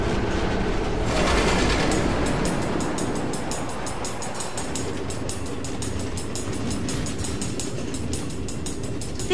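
A train rolling along automated rail tracks through the Nether in Minecraft: Story Mode, with a continuous steady rumble and a regular clickety-clack rhythm running the whole way, fairly loud and close.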